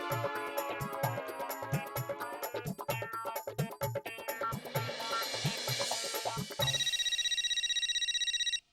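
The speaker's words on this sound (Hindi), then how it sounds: "ओए टप्पू, ये तो तेरा फोन है" A phone ringtone plays over busy background music with rhythmic beats, then a bright electronic ringing tone continues alone near the end.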